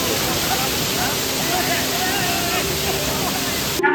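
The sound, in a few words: Suruli waterfall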